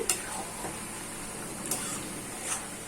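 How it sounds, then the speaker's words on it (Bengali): Grated coconut being stirred in a pan with banana blossom (mocha), a soft continuous scraping with a few sharper utensil clicks against the pan, fairly quiet and without talk. "তারপরে আমি নারকেল কোড়া দেব। নেড়ে দেব আমি।"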